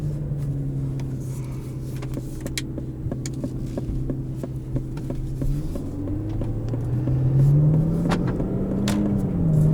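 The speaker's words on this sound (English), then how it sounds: "Twin turbo V12. Nothing like it." A 2020 Aston Martin DB11 AMR's twin-turbo V12 hums steadily at a low cruise, then swells and rises in pitch as it accelerates near the end, heard from inside the cabin with no talking.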